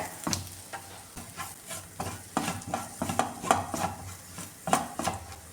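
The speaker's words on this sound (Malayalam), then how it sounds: "ഈ പൊടികളുടെ പച്ച ഫ്ലേവർ മാറാനേ നന്നായിട്ട് ഒന്ന് ചൂടാക്കിയെടുക്കുക" Ground homemade garam masala is heated and stirred in a pan for papadam curry, with repeated sharp scrapes and taps of a utensil against the pan over a faint sizzle, in an irregular rhythm.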